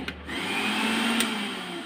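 A blender machine under repair is switched on and runs steadily, a loud continuous motor whir with a sustained tone and no voices over it.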